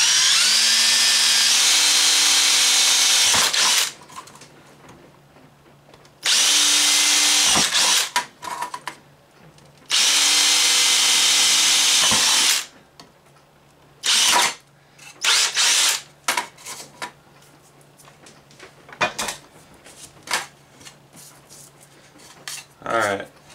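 A power drill whirs loudly in several sustained bursts separated by pauses, with clinks and handling noises between the runs.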